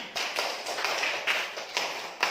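A class of students clapping hands in a classroom, a short ragged round of applause with several sharper individual claps standing out, moderately close.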